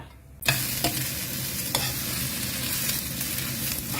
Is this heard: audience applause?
no